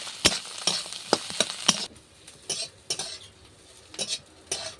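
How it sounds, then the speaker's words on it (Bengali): A spoon scrapes and clinks in a pan while fish roe is mixed with spices, a series of sharp irregular stirring strokes with quieter pauses between, close and clear with no talk. "মাছের ডিমটা মশলার সঙ্গে ভালো করে মিশিয়ে নিব"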